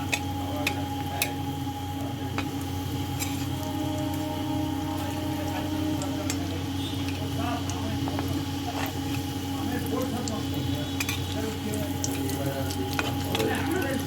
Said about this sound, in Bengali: এবার আমি চপগুলো দিয়ে দিচ্ছি, দুটো দুটো করে ভেজে দেব সাদা তেলে।